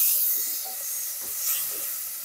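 Beef and dried radish greens sizzle as they are stir-fried in a pot for doenjang soup, a steady close hiss with faint stirring scrapes and a sharper clatter at the very end.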